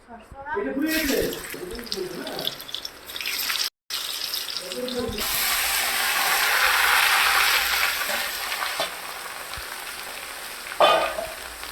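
Potatoes for Bengali aloo dum drop into smoking-hot oil, setting off a loud, broad sizzle that swells and holds steady in the middle, with a voice talking over the start and a brief clatter near the end.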